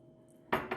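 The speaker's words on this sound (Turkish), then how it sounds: "Şekerini de ilave edip kaşıkla karıştırıp 10 dakika bekletiyorum." A spoon stirs yeast, warm water and sugar, giving two quick close clinks against the bowl in a quiet room.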